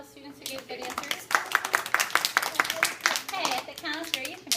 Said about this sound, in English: can we have a round of applause for all the students who gave good answers?